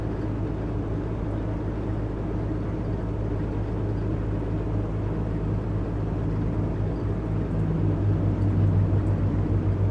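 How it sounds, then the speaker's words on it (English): A truck on the road, heard from inside the cab: a steady low engine rumble and droning road noise that continue throughout without a break. "you can hear the truck a little bit in the background as well."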